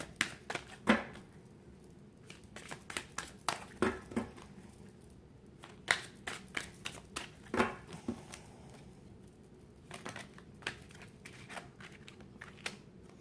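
Tarot cards are shuffled and handled in a quiet room, giving a series of soft, irregular riffling and tapping bursts spaced a second or two apart, close and fairly faint.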